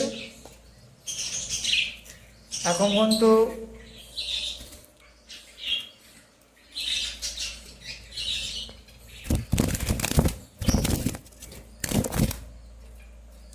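Pet birds chirp and squawk indoors at home in scattered bursts, with quick fluttering wing flaps and a few loud sharp rustles, while a person speaks briefly.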